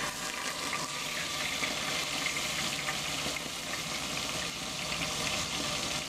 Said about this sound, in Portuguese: Então agora eu vou colocar um a um para fritar.